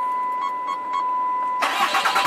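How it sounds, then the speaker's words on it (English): A truck engine cranks briefly, then catches and starts running loudly after an oil change with new empty filters, near and alone. "crank her up real quick."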